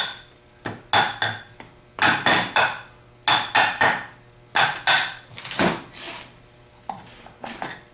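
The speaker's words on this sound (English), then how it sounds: "Now we're going to just take a hammer and tap the back plate off on both sides." Repeated sharp metallic hammer taps in clustered bursts, knocking the back plate off a 39MT starter at close range with short pauses between groups.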